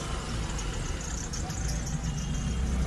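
A car engine idles steadily with a low, even rumble and hum, heard from inside the car with no clear start.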